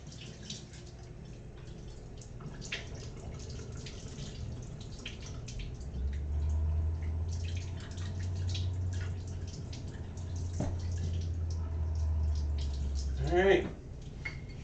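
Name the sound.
washing a dish by hand under running water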